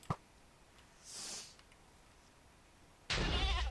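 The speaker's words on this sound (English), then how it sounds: "Let's try this goat." A goat in a modded Minecraft game bleats once in a short burst, followed later by a sudden loud, noisy sound near the end; otherwise quiet background.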